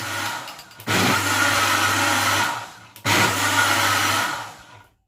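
A kitchen blender whirs loudly, mixing crème fraîche into a recipe, in two bursts of about two seconds each separated by a short pause, then winds down.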